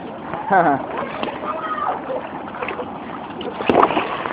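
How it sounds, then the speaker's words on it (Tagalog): A strong waterfall on a river outing sends up a steady wash of rushing, splashing water close by, with people talking and calling out over the roar. "Sobrang lakas po ng waterfall."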